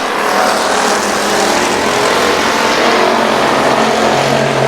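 Race cars roaring around I-37 Speedway, a dense continuous wall of engine noise from several cars at once, loud and sustained throughout.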